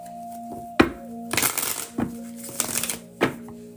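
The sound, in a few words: shuffling cards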